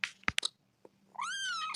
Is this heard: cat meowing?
yes